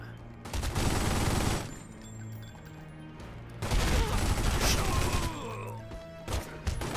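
Gunfire in The Godfather: Don's Edition, heavy loud bursts of shooting in two sustained volleys with crashing impacts between them, close and dominant.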